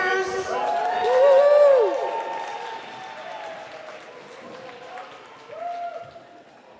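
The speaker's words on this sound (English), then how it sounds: "let's also cheer for people putting this event together. Thank you, volunteers!" An event crowd claps and cheers for the volunteers, applause swelling loud with a high whoop riding on top before thinning into scattered clapping and a few voices.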